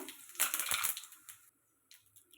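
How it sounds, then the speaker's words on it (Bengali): Whole cumin seeds, bay leaf and whole garam masala hit hot oil with a loud crackling burst of sizzle that fades within a second, followed by quieter intermittent spitting, with no talk. "তেলটা গরম হয়ে গিয়েছে, দিয়ে দিচ্ছি সাদা জিরে, তেজপাতা, গোটা গরম মশলা"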